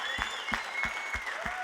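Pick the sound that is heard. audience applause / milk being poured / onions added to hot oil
audience applause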